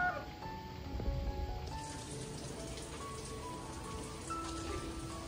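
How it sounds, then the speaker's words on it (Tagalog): Heavy rain pours steadily behind a house in the aftermath of a typhoon, a dense close drumming and splashing of water that continues without pause. "Grabe guys, ang ulan talaga."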